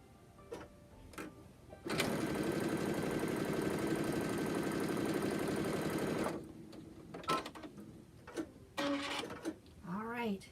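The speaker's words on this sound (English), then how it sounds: "I'm going to do the next seam." A sewing machine stitches a seam on microwaveable handwarmers, a loud steady whirring run of about four seconds, followed by brief clicks and handling noises and a short burst of speech at the end.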